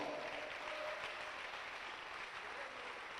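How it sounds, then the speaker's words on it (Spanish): Congregation applauding during a church sermon, a dense, even wash of clapping that holds steady from start to finish, with faint voices mixed in. "Dele un aplauso fuerte al Señor."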